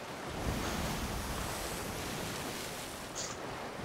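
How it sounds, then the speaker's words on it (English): Continuous ocean surf in a video game, a steady wash of waves with wind noise, fairly loud and unbroken, no voices. "God, these fucking waves."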